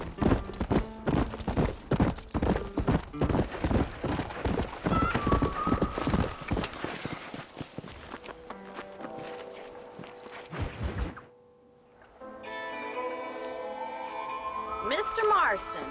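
Horse hooves clip-clop in steady, quick rhythm during riding in the video game Red Dead Redemption, loud and close for most of the stretch, with a horse whinny and game dialogue voices and music rising toward the end.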